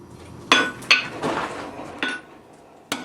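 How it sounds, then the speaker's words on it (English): A blacksmith's hammer draws out a hot steel bar on an anvil with several sharp, ringing metallic strikes at an uneven rhythm, close and clear, each blow trailed by a short resonant clang. "we're going to start drawing out the bar by just changing the position of the hammer slightly"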